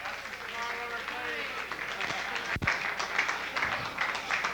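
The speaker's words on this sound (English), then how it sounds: "A nice round of applause" Audience applause for Tony at a lively club show, a moderate crowd clapping steadily under a speaking voice, with a sharp thump partway through.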